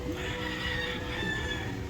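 A rooster on a farm, a faint crowing call carried over a steady background noise, brief and somewhat distant, with no talking.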